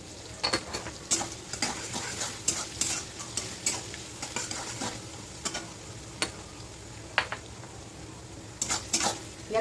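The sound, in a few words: frying and stirring ingredients for biryani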